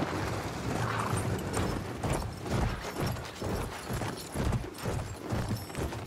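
Horse hooves clip-clop in a rapid, rhythmic gallop in the World War I shooter Battlefield 1, close and steady with creaking tack and mechanical rattles underneath.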